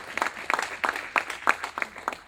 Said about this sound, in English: Let us give them another hand of applause,